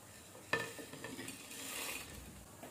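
Cloves, green and black cardamom and dried red chilies go into a pan for nargis kebab, a single clatter of whole spices followed by a soft scraping stir and faint sizzle, quiet and close, with no voices.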